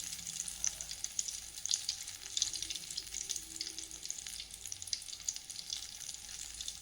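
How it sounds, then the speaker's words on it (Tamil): Suiyam sweet balls deep-frying in hot oil, a steady bright crackling sizzle that runs evenly throughout with small bursts, close and fairly quiet, no talking. "இப்போ இது போலவே எல்லா உருண்டைகளையும் நம்ம பொரித்து எடுத்துக்கலாம்"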